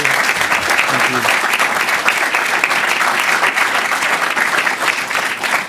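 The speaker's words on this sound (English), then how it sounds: "Let's give everyone a round of applause" Loud, dense clapping from a room of attendees at a press conference introducing a new Big Ten commissioner, sustained evenly for several seconds with light voices mixed in.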